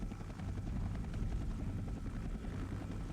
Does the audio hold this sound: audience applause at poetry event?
no